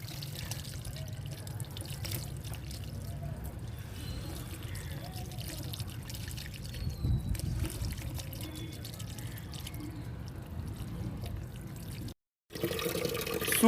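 Water poured over a body during a bath splashes and trickles steadily and close, with a brief silent break near the end before the pouring resumes.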